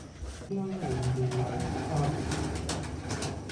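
Soft, low pigeon coos repeat a few times close by, with a voice speaking over part of them.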